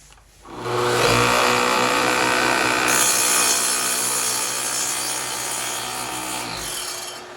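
A plunge saw drops into wood and cuts along a glue line, a loud steady whining buzz that starts abruptly, holds for several seconds with a slight pitch change, then winds down.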